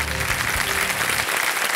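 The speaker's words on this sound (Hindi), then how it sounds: "तालियां बज जाए इनके लिए" Studio audience applause on the TV quiz show Kaun Banega Crorepati, a dense, steady roar of clapping heard throughout a short burst, with no talk over it.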